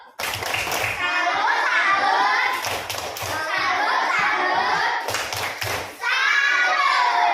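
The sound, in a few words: children doing the 'tepuk salut' clap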